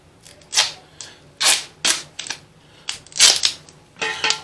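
Tape being pulled and torn off a roll during a water heater element replacement, a series of about eight short sharp ripping bursts at close range, no talk.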